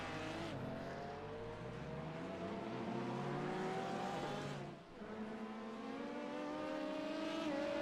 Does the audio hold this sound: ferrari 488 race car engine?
yes